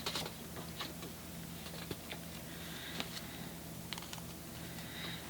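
Stamped botanical image is cut with Stampin' Up dies, producing faint, scattered mechanical clicks and soft ticking taps over a low steady hum from a die cutting machine, with no speech.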